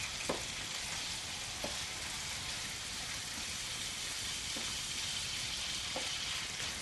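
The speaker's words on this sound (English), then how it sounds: "fresh chilli, teaspoon of curry paste. We'll let that cook down for a bit." Chicken thighs with fresh chilli and curry paste cook in a pan, a soft continuous sizzle and crackle with a few faint taps from stirring.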